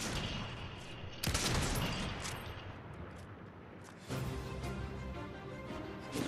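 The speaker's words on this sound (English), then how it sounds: "Oh, someone shot it." Rapid bursts of gunshots from a Fortnite match, a loud volley after a moment and another sustained burst later, the firing continuous and close over a steady background.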